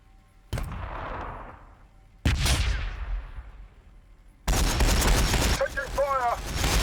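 Gunfire erupts in a Warhammer 40,000 battle between Blood Angels and Orks: three loud, heavy bursts, each booming in and then trailing off, with a voice speaking over the last one.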